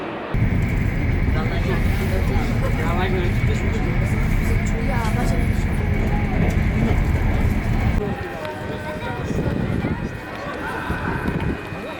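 A loud, steady low rumble of a moving train bound for Bukhara, Uzbekistan, with faint indistinct voices, dropping to a quieter, rattling hum after about eight seconds.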